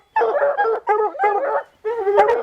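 Hunting hounds barking and bawling at a treed bobcat in the British Columbia mountains, several drawn-out, howling bays in a quick series with brief gaps, close and loud with no talk.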